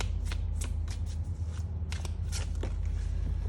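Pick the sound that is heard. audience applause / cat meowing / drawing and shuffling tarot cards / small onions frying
drawing and shuffling tarot cards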